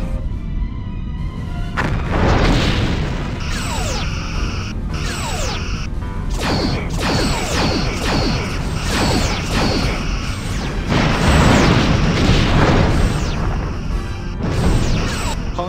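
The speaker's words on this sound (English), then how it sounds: "Simulated enemy ship has been destroyed." Starship destruction in the Star Trek Bridge Commander space combat game, a continuous loud barrage of booming blasts, crashing impacts and sweeping whooshes over a constant engine drone, with no talking.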